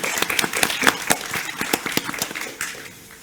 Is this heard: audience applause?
yes